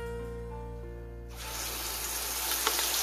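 A paste of onion, tomato, ginger and garlic hits hot oil in a frying pan for spicy dum aloo, a low steady hum giving way to a sudden loud, continuous hissing sizzle.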